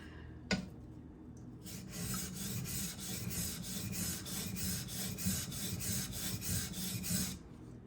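A Karaku AS gyuto 210mm knife scrapes on a sharpening stone in a rapid, regular series of gritty back-and-forth strokes, close and clear, after a sharp tap at the start.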